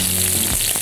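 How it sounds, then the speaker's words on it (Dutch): Steak sizzling in a frying pan, a loud, close, steady hiss of frying with a few soft crackles, heard alone without any talk. "Want het gesis begint nu te veranderen."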